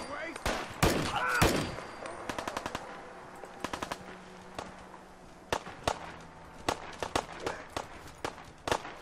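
Gunfire in the video game Fallout 4, with sharp shots in quick bursts and scattered single cracks, some near and some farther off, plus footsteps between them.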